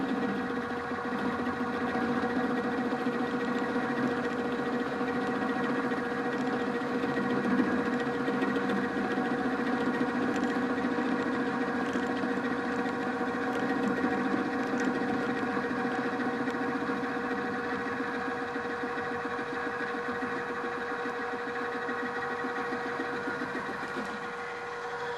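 A metal-cutting tool feeding across a workpiece makes a steady, loud rumbling drone with a buzzing chatter that stays even throughout, with no voices.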